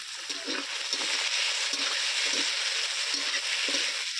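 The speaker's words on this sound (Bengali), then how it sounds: "পেঁয়াজের সঙ্গে টমেটোটাও একটু ভালো করে ভেজে নেবো" Chopped tomatoes fry with golden onions in a curry pan for chicken curry, a loud steady sizzle with repeated stirring scrapes every half second or so, no voices.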